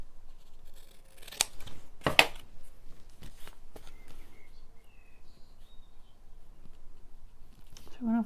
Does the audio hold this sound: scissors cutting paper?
yes